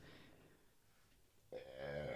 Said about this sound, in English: I hope you didn't hear that burp.